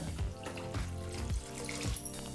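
Water pours into a pot of tomato pepper rasam, a loud close splashing gush that runs continuously with gurgling pulses.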